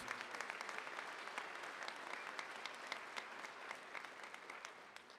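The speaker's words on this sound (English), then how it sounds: "So a big round of applause for our family and friends." Family and friends at a nursing pinning ceremony give a steady round of applause, a dense wash of many hands clapping at even strength, faint and distant throughout.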